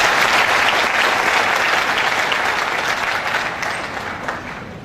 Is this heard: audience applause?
yes